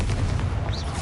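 Confringo fire spell blast in Hogwarts Legacy, a single short booming burst with a low rumbling body, loud and close.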